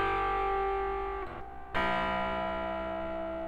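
A buzzy, harmonically rich synth tone through full-wave rectifier distortion on a MICrODEC holds steady, drops out briefly, then returns with a shifted, harsher pitch.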